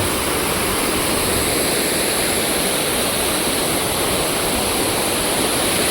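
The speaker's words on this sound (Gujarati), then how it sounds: "આ અમારા ગામની નદી છે" A village river pours over a small dam in a dense, constant roar of rushing water, loud and close, with no voices.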